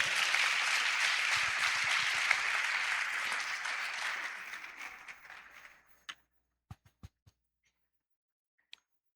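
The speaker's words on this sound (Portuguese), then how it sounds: "Dê um aplauso ao Senhor." Congregation applauding in a church, a sustained wave of many hands clapping that gradually fades away, leaving a few isolated sharp claps or taps at the end.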